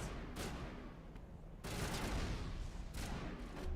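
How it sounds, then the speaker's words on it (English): Grenade blasts and gunfire from a Mass Effect firefight, a loud dense burst of booming and shots running continuously, with a sharp surge in intensity midway and no voices. "Accidentally threw a grenade, if you're wondering why I'm saving grenades."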